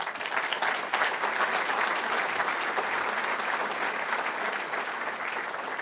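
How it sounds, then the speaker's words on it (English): Sustained applause from a banquet audience at a Youngstown State University scholarship and ring ceremony, a dense, even wash of many hands clapping at steady loudness throughout, with no voices above it. "Let's have a nice round of applause for Steve Zaborsky."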